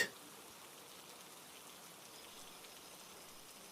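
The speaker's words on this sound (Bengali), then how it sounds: "আবার রাত এলো বৃষ্টি এখনও থামেনি" Steady, soft hiss of rain falling, even and continuous throughout with no voices, fairly quiet and diffuse.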